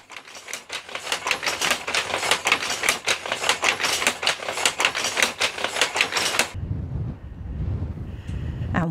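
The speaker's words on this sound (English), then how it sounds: "you can actually see an original loom here weaving the beautiful Harris tweed that we saw being prepared at the mill earlier today" A traditional loom weaving Harris tweed at the Black House Village, its rapid wooden clacking beats repeating steadily and close for several seconds before stopping abruptly, leaving a low rumble.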